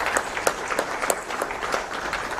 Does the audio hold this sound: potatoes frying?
no